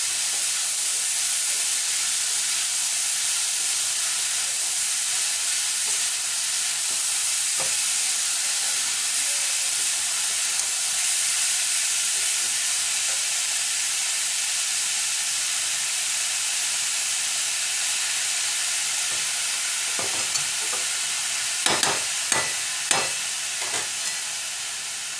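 Carrot and beetroot frying with salt in a pan, a steady close hiss of sizzling that runs on continuously, with a few sharp clinks of a utensil near the end.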